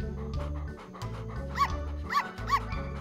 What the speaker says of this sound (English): Oh, look, an adorable litter of puppies.